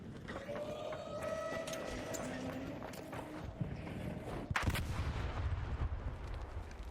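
A bomb goes off in a video game as one sharp, booming burst over steady background game noise and faint scattered steps.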